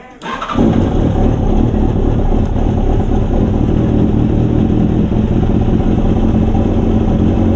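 Kawasaki motorcycle engine cranks and catches within the first half second, then settles into a loud, steady running idle with a constant rumble for several seconds, close up.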